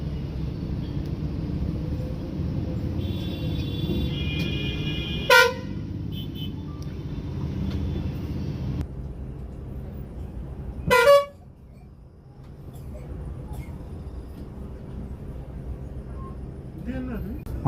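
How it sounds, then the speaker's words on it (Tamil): Heavy road traffic on a busy highway rumbles steadily with car horns honking in sharp bursts, while a voice talks over the noise throughout. "மக்களே சரியான டிராஃபிக்காக இருக்குது."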